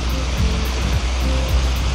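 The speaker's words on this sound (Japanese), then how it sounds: "紫川を撮影中です" The Murasaki River flows steadily, a continuous broadband rush of moving water close by with no talk over it.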